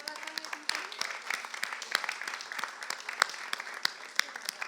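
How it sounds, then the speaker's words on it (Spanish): Applause from a seated group at an evening church discipleship class, a steady patter of many hands clapping throughout, moderately close with faint voices underneath. "De pie, por favor, dale un aplauso a ese muchacho."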